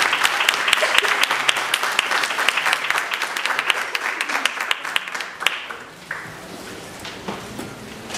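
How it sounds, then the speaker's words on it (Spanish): Vigorous applause from an audience at a forum on animal rights in Mexico, strong and dense at first, then thinning into scattered claps toward the end. "para quien también pido un fuerte aplauso"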